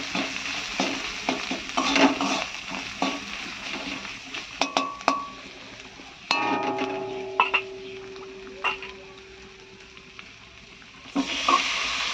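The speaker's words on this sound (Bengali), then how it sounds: "আর এবার একটু ভেজে নিই মশলাটা।" A spice mixture frying in a pan in a home kitchen, with a low sizzle under repeated clinks and scrapes of a spoon stirring against the metal, some quieter stretches between.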